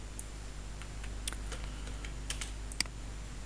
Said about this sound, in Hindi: Z एंटर करके डबल एंटर कर दें